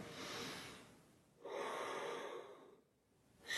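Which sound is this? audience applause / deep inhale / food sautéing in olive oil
deep inhale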